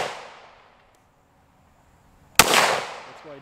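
A single sharp gunshot from a 5.7 handgun at an outdoor target range, one loud crack with a ringing tail after a quiet gap, ending with a brief voice.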